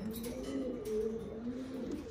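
Pigeons coo softly, low rolling calls overlapping close by, with no talking.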